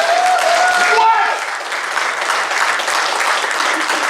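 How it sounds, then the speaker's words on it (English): Dense, steady applause from an audience at a charity volunteer coding event's closing session, loud and sustained throughout, with a voice briefly audible near the start. "Round of applause."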